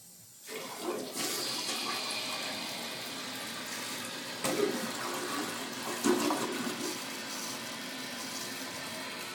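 A household toilet flushes with a loud rushing swirl, then settles into the steady hiss of the tank refilling, with a couple of brief gurgling surges along the way; close by and heard alone.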